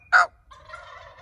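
A wild turkey gobbles once, a short loud rattling burst, and then a softer, drawn-out bird call trails off. The birds are at a moderate distance in a quiet outdoor setting near a house.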